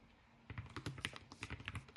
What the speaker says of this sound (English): do my keys sound milky or clacky? They're a little clacky.